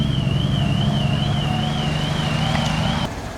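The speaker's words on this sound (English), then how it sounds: "That car set off the alarms." A car alarm wails with a steady warbling tone at an outdoor car show during Monterey Car Week, loud and continuous over engine rumble, then cutting off near the end.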